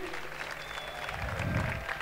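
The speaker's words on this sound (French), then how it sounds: "Applaudissez SPS." A gaming tournament audience at Stunfest 2014 gives a dense, even burst of applause, heard at a modest distance with faint voices mixed in.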